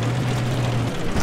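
A helicopter in Battlefield 4 makes a loud, steady engine drone with a low throbbing hum, hovering close by; no voices.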